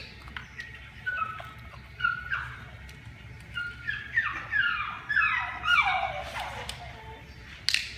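A dog whimpers and whines in a series of high, wavering cries during object pick-up training, the whines rising and falling in short bursts close by with a quiet background.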